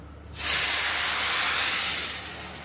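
Water poured into a pan of sautéed rice meets the hot pan with a sudden loud steaming hiss that bursts in after a brief pause, holds strong, then slowly fades.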